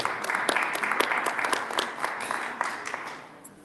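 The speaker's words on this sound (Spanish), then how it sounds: "les pido un aplauso para Daniela" Audience applause for a presenter at a business fraud talk in Nuevo León, a dense burst of clapping that holds steady and then thins and fades toward the end.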